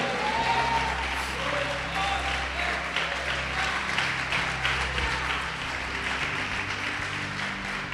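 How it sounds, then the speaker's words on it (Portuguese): A church congregation claps in praise during a Portuguese-language sermon on faith and prayer, the sustained applause mixed with low rumble and murmuring voices. "Pode aplaudir e glorificar o Senhor."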